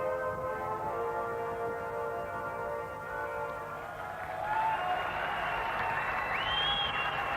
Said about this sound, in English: Acknowledgement from the crowd for Advance Australia Fair.